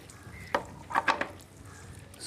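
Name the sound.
stirring green masala with coconut in a pan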